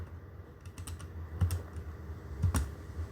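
Calculator keys pressed while dividing 4,800 by 150 for a heat capacity problem, heard as a few sharp, close plastic clicks spread irregularly across the clip with no talk.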